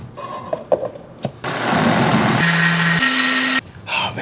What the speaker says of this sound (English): so I will put it in an actual blender